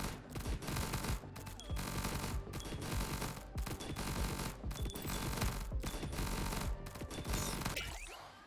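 A turret in the video game Nimrods: GunCraft Survivor fires a loud, continuous rapid-fire barrage, with brief regular breaks about once a second and a trailing crash at the end.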